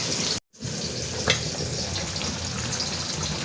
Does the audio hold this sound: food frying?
yes